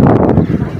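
Strong wind gusting across an outdoor park, a loud, steady broadband roar with rough buffeting throughout, close to the microphone and with no talk over it.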